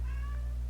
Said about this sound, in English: A loud, noisy cat.